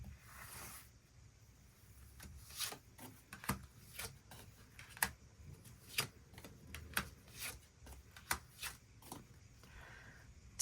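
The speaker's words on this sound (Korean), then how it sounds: "추가 카드 뽑아보도록 하겠습니다" Tarot cards being shuffled and drawn in a quiet room, a soft brushing rustle followed by a run of crisp, irregular card snaps and flicks, close and faint with no voices.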